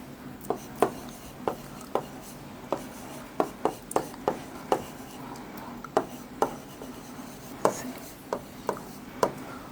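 Sentences being written on a classroom board produce quiet strokes punctuated by sharp, irregular taps spaced across several seconds.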